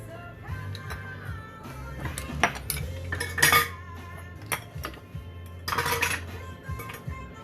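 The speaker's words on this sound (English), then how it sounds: "start to put all my dirty dishes in my dirty bowl" Dirty dishes and spoons clink and clatter into a bowl during vegan banana bread baking, sharp metallic and ceramic knocks landing in irregular bursts, close and alone without talk.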